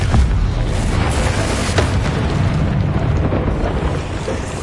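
A loud, sustained booming blast from a Confringo spell in the Hogwarts Legacy video game, a dense roar of low rumble that fills the whole moment without a clear start or fade.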